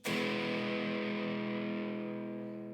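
A TE-style kit electric guitar on its neck pickup rings out a single distorted chord, struck sharply and left to sustain and slowly fade, alone and fairly loud.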